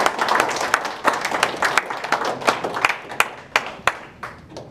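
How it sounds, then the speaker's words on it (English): Crowd applause for newly inducted knights at a Knights of Rizal chapter anniversary ceremony: lively clapping with sharp individual claps standing out, thinning toward the end. "let's give them once again a big round of applause."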